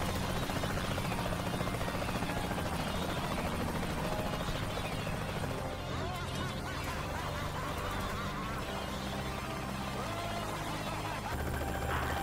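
A helicopter in the video game Saints Row The Third thunders with a loud, continuous rotor roar that stays close and dense throughout, mixed with game effects and faint talk.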